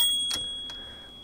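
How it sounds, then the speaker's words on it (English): Small typewriter margin bell gives one short bright ding, followed by a fainter second ping a moment later, close and clear over a quiet background. "The bell will hit"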